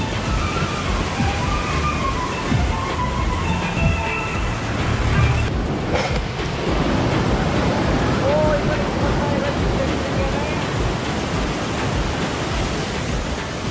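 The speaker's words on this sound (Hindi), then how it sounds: "ये देखो ना कितनी तेज पानी आ रहा है" Fast water rushes and foams through the Dadupur (Pathrala) barrage at Yamunanagar, a steady loud roar filling the whole stretch, with a faint voice briefly audible over it.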